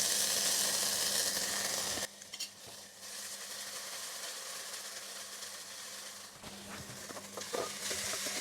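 Ginger garlic paste frying in hot oil in a home kitchen pan, a steady broadband sizzle that drops in intensity partway through, with faint clinks and stirring scrapes near the end.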